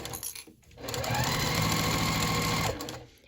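A sewing machine back stitches through a lanyard, whirring in one steady, close mechanical run of rapid stitching that lasts about two seconds before stopping, with light handling noise around it.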